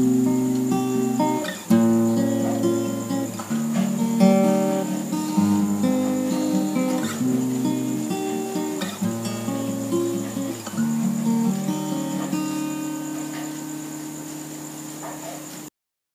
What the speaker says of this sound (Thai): เสียงจากไมโครโฟนจะมีเสียงรบกวน